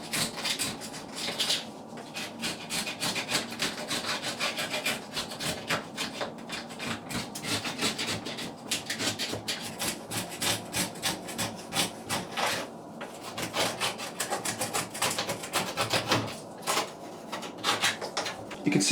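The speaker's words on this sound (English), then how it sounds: "I'm now going to use a silicone removal tool like that to remove the remainder of the silicone." Silicone removal tool scraping old, chemically softened silicone sealant off a bath, a steady loud rasping and rubbing that continues nearly without pause, close up and with no speech.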